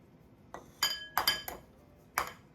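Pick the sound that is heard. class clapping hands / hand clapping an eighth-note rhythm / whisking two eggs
whisking two eggs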